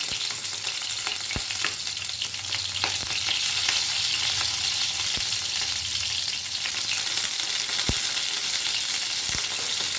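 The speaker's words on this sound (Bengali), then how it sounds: "গ্যাসের ফ্লেমটাকে মিডিয়ামে রেখে পটলগুলো কিন্তু একটু ভালো করে ভেজে নেব" Pieces of pointed gourd frying in hot oil in a pan over a medium flame, giving a dense, continuous close sizzle with a few sharp utensil knocks against the pan.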